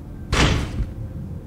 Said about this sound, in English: Now we enter the door.